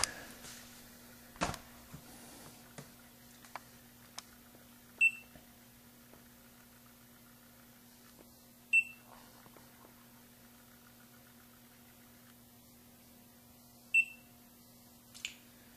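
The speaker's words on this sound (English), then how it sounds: "Now those beeps coming to the meter are interesting" A multimeter connected to a homemade antenna and capacitor experiment gives three short, sharp electronic beeps several seconds apart, standing out over a steady low electrical hum with no talking.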